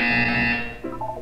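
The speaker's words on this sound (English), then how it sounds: "You will hear a buzzer." Buzzer in the video game Portal 2, a loud sustained electronic buzz tone that fades and shifts pitch toward the end.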